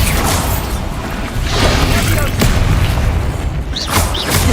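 A Bombarda blasting spell goes off in Hogwarts Legacy, a loud dense booming explosion that fills the whole moment with rumbling noise and a few whooshing swells.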